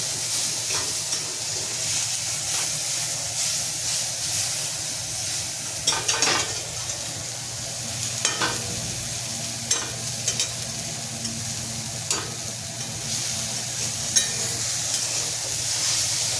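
Noodles frying on a low flame in a pan, a steady soft sizzle with occasional stirring clicks and scrapes throughout, close and alone with no talking.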